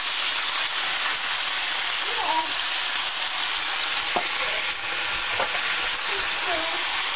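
Beef and snow peas stir-fry in a pan with a loud, dense, continuous sizzle and crackle, and a few light clicks of the utensil scattered through it.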